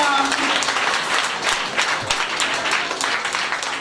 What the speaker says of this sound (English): So put your hands together and clap the team.